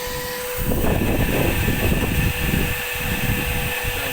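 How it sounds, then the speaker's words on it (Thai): A vacuum cleaner fitted to a PVC pipe sucks water out of an air conditioner's dripping drain pipe. It makes a loud, steady, close roar with a constant whine and no talking. "เครื่องดูดฝุ่นเขาก็จะ ใช้กำลังเยอะขึ้น"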